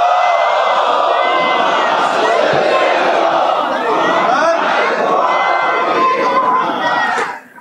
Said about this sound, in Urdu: ایک اور صلوات بلندتر آواز میں مرحمت فرمائیں